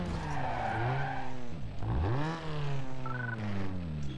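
Car drifting in Need for Speed Underground 2, its engine note swooping up and down with continuous loud tire squeal throughout, brief higher screeches near the end.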